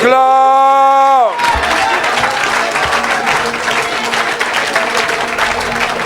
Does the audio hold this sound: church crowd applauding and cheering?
yes